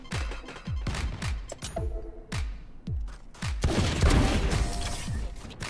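Gunfire and a grenade blast in the Valorant video game: a series of sharp, punchy shots at a steady rhythm, then a louder, broader explosive burst near the end.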